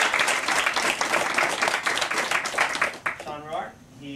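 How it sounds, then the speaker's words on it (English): A panel audience breaks into a hearty round of applause, steady clapping from a crowd that tapers off after about three seconds as a voice starts talking. "So a round of applause."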